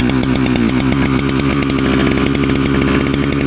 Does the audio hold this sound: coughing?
no